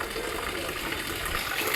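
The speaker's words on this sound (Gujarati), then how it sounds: "ભૂંગળામાંથી પાણી આવે છે ને ઉપરથી સીધું ત્યાંથી." Rainwater gushes steadily from a drainpipe during a light rain shower, a loud, continuous splashing pour close by with no pauses.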